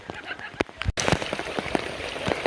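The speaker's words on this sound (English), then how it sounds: "It is a torrential downpour." A torrential downpour at the Ichetucknee river pours down as a loud, steady hiss of rain hitting the surface, with distinct drop impacts and a brief break before the roar resumes.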